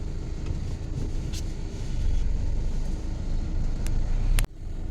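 Truck rolling along a slushy, snow-covered road, its low engine drone and tyre rumble steady and close, with a sudden thump near the end.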